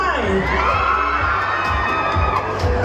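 A crowd at a live event cheers and shouts excitedly, with high children's voices mixed in. The cheering is loud, close and continuous throughout, with no distinct rhythmic clapping.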